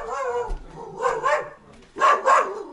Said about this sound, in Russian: Вон, видишь, живодер гавкает